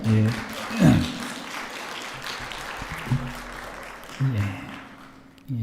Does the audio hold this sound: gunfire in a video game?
no